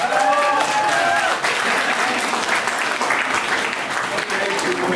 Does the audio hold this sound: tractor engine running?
no